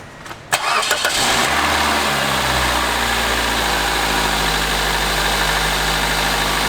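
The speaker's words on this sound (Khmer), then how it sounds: "ត្រូវបញ្ឆេះម៉ាស៊ីននិងធ្វើតេស្តសាកល្បងម្ដងទៀត" A car engine is cranked and fires up after a spark plug replacement, then settles into a steady, even idle with a constant low rumble, close by and with no talking.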